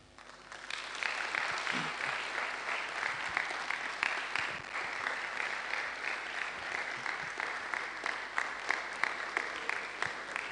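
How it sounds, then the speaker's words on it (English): Sustained audience applause for a guest lecturer at a university pre-convocation lecture in Ede, Osun State, steady dense clapping throughout the hall with no talk over it. "Please keep applauding him."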